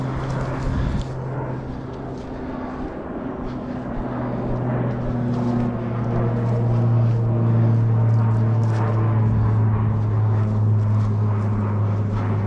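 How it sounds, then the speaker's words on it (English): An airplane takes off from a nearby airport, a steady low engine drone that swells gradually over outdoor background noise, with no talk. "There's a plane taking off from the airport."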